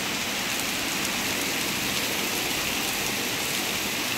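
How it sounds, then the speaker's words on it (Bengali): Heavy rain pours steadily during a low-pressure storm around a house, a dense, continuous broadband hiss with no let-up and no voices. "এই যে এখন বৃষ্টি আরও বেড়ে গিয়েছে।"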